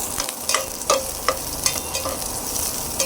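Garlic sautés in a frying pan with onions for a ginisang cabbage dish, giving a steady close sizzle broken by regular scraping stirs about every half second.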